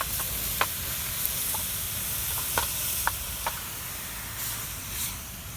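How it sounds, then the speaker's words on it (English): Water hisses and sizzles on hot biochar, a continuous steamy crackle dotted with sharp pops and occasional scraping stirs, close up and steady. "It'll sizzle."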